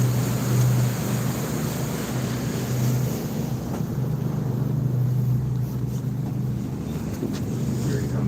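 A floatplane touches down on an Alaskan river, its engine a steady low drone blended with constant wind rush and water noise, loud and close throughout.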